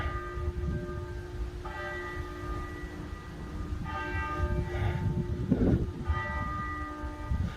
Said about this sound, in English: don't know if you hear the bells ring